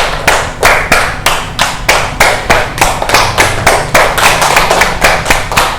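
A class plays a rhythmic hand-clapping pattern game, with loud, close claps struck in quick counted groups that build in number, steady and unbroken without voices.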